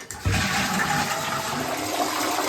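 A toilet flushes once during a bathroom refit, a loud rushing gush of water that holds steady for a couple of seconds, close by and with no talking.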